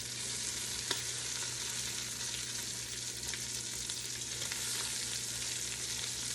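Cabbage hits a hot pot and sizzles steadily, a dense close frying hiss with faint crackles and a low hum of the stove underneath, no voices.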